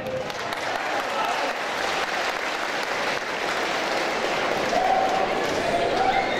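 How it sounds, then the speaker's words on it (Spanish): An audience at a Colombian governor's public event in Sutatausa breaks into steady, sustained applause, a dense wash of clapping heard close and loud throughout. "Y eso sí nos lo aplauden."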